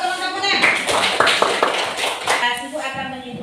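Classmates in a primary school classroom clap for one another during a religious education lesson, a burst of mixed hand claps and taps with children's voices chattering over it.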